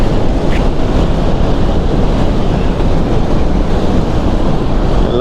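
Water rushes through the gates of the Nagarjuna Sagar dam hydroelectric station, a loud, unbroken roar heard up close, with heavy wind buffeting mixed in throughout.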